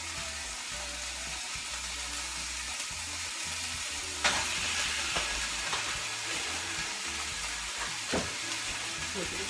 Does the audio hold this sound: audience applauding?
no